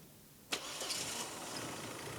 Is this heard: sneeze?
no